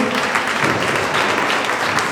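Loud, dense audience applause at a Jain temple gathering in Jaipur, a continuous roar of many hands clapping close and steady for the whole stretch.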